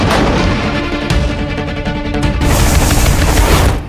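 A missile launch roars as a loud, sustained blast of broadband rumble that holds for several seconds and swells again near the end, with no talking.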